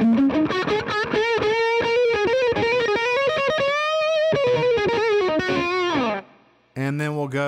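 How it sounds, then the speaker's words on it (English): A heavily distorted electric guitar on its bridge pickup, played through a Boss DS-1 pedal with a Monte Allums Tri Roxx Plus mod, plays sustained, singing lead notes with bright, gritty overtones, briefly cutting out near the end before a final chord rings. "crank the distortion control up and move the pickups back to the bridge"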